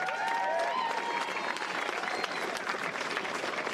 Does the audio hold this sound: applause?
yes